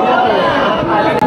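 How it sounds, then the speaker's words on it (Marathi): A dense crowd at the Pune Ganpati festival makes a loud, close, continuous hubbub of many overlapping voices, unbroken for the short stretch. "भयंकर गर्दी आहे"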